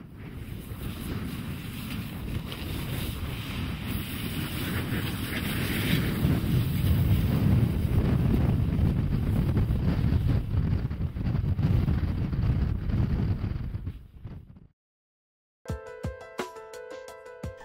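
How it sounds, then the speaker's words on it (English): A strong Antarctic gale roars around tents, a loud continuous buffeting rush that swells about midway, then cuts off abruptly near the end, followed by a short burst of unrelated noise. "the gales that are blowing around us"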